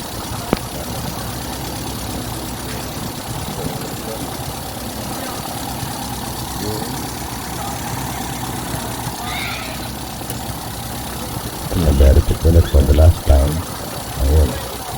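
A misfiring Toyota 4K engine idles steadily with an uneven, stumbling rhythm, then louder irregular low thumps near the end; a voice talks over parts of it.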